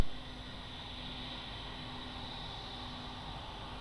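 An airplane taking off from runway 02 at Lisbon Airport, heard as a faint, distant, steady engine roar that holds level throughout.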